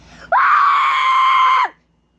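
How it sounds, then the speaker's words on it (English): A single loud, sustained scream bursts in abruptly, holds steady for over a second, then cuts off sharply, leaving near silence afterward. "What the hell is that scream?"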